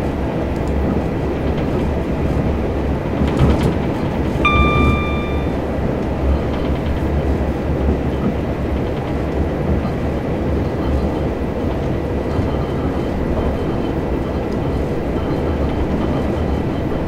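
Class 387 electric train running in Train Simulator 2018, a steady loud rumbling drone of wheels and motor throughout, with a brief tonal whine or horn-like note near the start.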